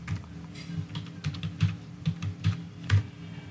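Keys on a computer keyboard are tapped to enter a keystore password, a close, irregular run of soft clicks with a few firmer presses spread across the stretch; nobody speaks.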